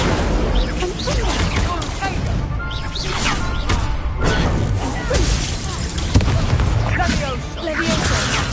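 Fiery Confringo spell blasts in the wizarding game Hogwarts Legacy, crashing and booming one after another in a dense, loud, continuous din of combat effects, with a voice calling out spell names over the top.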